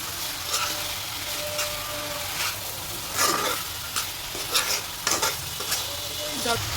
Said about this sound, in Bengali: এই হচ্ছে জল দিয়ে দিল আলুটা সিদ্ধ হবে